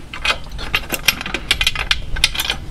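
Hyperax Iridium hitch-mounted kayak rack ratcheting down to its lowest notch, a rapid run of sharp metallic clicks from a close ratchet and pawl mechanism, steady and uneven in spacing, with no talking.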